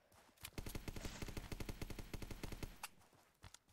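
Rapid bursts of automatic gunfire in the video game ZombsRoyale, a dense string of sharp, evenly spaced shots followed by a few isolated single shots.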